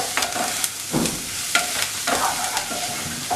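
Onions and garlic fry over a medium flame in a pan, a soft steady sizzle broken by several scraping stirs at irregular intervals, close and fairly quiet.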